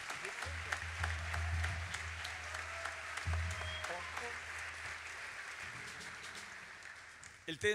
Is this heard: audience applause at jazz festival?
yes